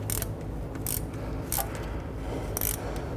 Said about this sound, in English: Now I'm using a 10mm socket, my 1/4" ratchet.